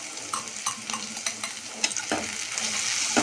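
Small chapila fish fry in hot oil with green chilies, a close, continuous sizzle broken by repeated scraping stirs against the pan. The hiss grows slightly louder toward the end, with no voices.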